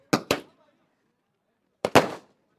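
Celebration fireworks after a cricket grand final let off sharp, loud bangs in two quick pairs, a double crack followed by a pause and then another double burst with short fading tails.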